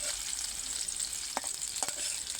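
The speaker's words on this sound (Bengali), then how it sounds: "এই যে এটাকে আমি হালকা একটু ভেজে নিচ্ছি" A mixture of green chilli, chilli powder and blended chicken breast sizzling steadily as it is lightly fried in a pan, a close, continuous hiss broken by a couple of brief scraping stirs.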